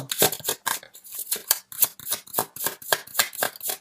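Tarot cards being drawn and handled from a deck, a rapid series of close, crisp papery flicks and snaps in an uneven rhythm, with no voices.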